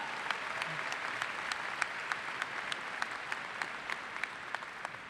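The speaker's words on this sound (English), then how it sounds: "Give them an applause." A high school commencement crowd applauds graduates, a broad steady wash of clapping across a large venue, punctuated by regular sharp nearer claps, with no speech over it.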